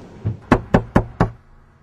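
Five sharp knocks on a door, evenly spaced and close, rapping loudly in quick succession before falling silent.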